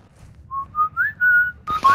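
A person whistles a short rising tune alone, clear and close, during a Modern Warfare II DMZ gaming session, with a brief burst of game noise near the end.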